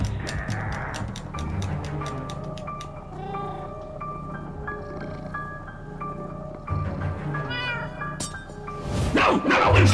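Cat meowing in the Minecraft: Story Mode video game, repeated mews mixed with game music and effects throughout, growing louder near the end.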